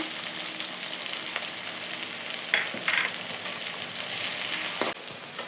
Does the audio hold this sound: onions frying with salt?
yes